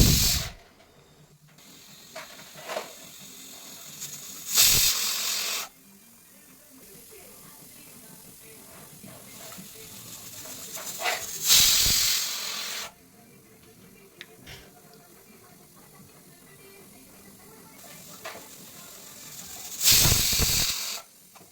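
A pressure cooker with potatoes and fresh peas lets off three loud bursts of hissing steam, spaced several seconds apart, with soft kitchen clatter between them.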